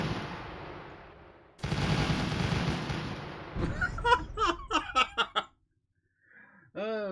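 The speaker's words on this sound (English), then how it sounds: "here you can see the MGS do fire effect" An MGS unit in the Rusted Warfare game lets off its fire effect: loud blasts, then a rapid burst of sharp staccato gunshots, with a short gap and a few faint vocal sounds near the end.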